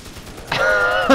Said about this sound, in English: The M60. Machine gun!